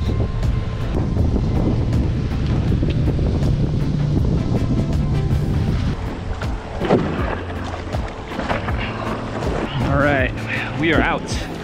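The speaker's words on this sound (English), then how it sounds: "It's a little windy out here." Wind buffets the microphone on a beach during surf fishing for sharks with a paddleboard nearby, a steady rough rumble with surf in the background and someone talking over it.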